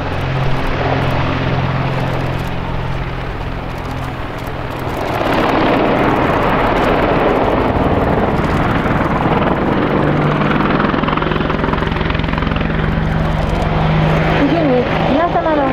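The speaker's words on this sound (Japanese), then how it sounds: "再びアパッチのダイナミックな飛行をご覧ください。" AH-64D Apache Longbow helicopter at an air show at Kasumigaura, accelerating and turning with a loud, steady rotor and engine roar that swells midway, while an announcer speaks over it.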